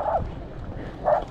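A small dog barks at people at an outdoor festival with ball fields nearby, giving two sharp yaps about a second apart over a low outdoor murmur.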